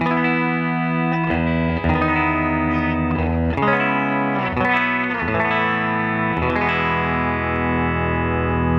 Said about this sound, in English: I'm going to play a clean and then we'll do some overdrive tones